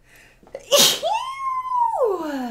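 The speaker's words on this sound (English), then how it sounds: "I need to sneeze" A single loud, close sneeze bursts out sharply, followed by a rising, drawn-out vocal tone that trails off afterward; no talking accompanies it.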